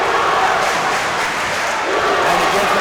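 A high school boys basketball crowd cheers and claps in a gym, a loud, continuous roar that holds steady throughout.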